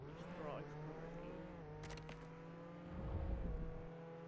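Car in the Roblox Jailbreak video game driving around a city, a steady engine drone with a brief rev swell near the end, with faint game effects.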